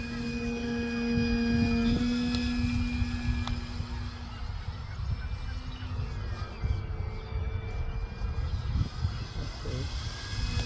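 A radio-controlled model plane's motor at full throttle makes a steady, buzzing whine with a shifting pitch over a rough outdoor rumble, fairly close and continuous throughout.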